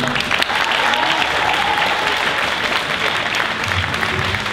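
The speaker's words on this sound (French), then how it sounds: "ça s'applaudit, s'il vous plaît" Sustained, dense applause from a large crowd at a national improv theatre final in France, loud and even throughout with no break, faint voices mixed into the clapping.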